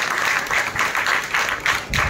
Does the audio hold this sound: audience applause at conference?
yes